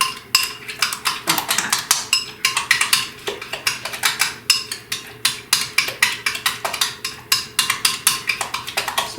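A spoon clinks and scrapes steadily against a bowl as a dessert filling is stirred together by hand, with dense, rhythmic taps close by and no talking.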